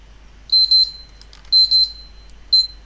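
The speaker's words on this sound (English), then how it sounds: "Okay, well there's the timer." A timer in the 7 Days to Die video game beeps in sharp, high electronic bursts, a double beep repeated about once a second with a single beep at the end, loud against near silence.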